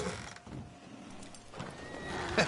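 A horse whinnies faintly amid soft clip-clopping hooves in the video game Red Dead Redemption 2, with a brief sharper clatter near the end; no one speaks.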